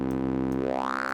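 A buzzy, sustained single-oscillator synth tone through a band-pass filter, its filtered resonance sweeping upward, giving a vowel-like, wah-ish shift; loud and steady with no voices.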